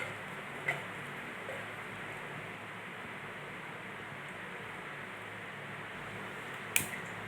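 Mustard seeds and cumin frying in hot sesame oil in a kadai give a steady, even hiss, broken by one sharp pop near the start and another near the end. No one speaks.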